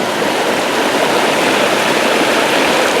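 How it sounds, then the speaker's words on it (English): Cactus boils in salted river water over an outdoor fire in the San Gabriel Mountains, a loud, dense, continuous rushing bubble that never lets up. "I got the cactus boiling. A little bit of salt water."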